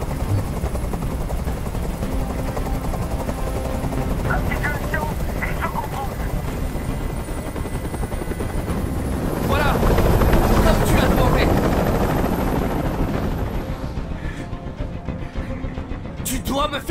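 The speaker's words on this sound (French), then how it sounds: "Fais dégager cet hélicoptère, maintenant" A helicopter's rotor thrums loudly and continuously, swelling midway, while voices speak over it in a dramatic hostage scene in the game Detroit: Become Human.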